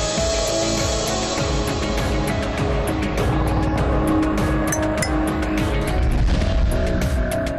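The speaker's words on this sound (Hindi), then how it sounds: "कार आगे बढ़ी" A car pulls away with an engine roar and a brief tire squeal, loud and close, then accelerates off as a sound effect.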